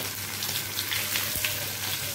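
Boiled potatoes fry in a pan for aloo dum over lowered heat, a steady close sizzle with faint crackles and a soft stirring knock.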